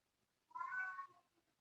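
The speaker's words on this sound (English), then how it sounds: "Listening to my cat" A single cat's meow, drawn out for about half a second, heard fairly close in an otherwise quiet room with no talking.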